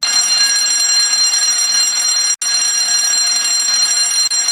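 An emergency alarm in a factory making ingots, wafers and modules rings continuously at a loud, steady pitch, briefly cut once before resuming, with no voices over it.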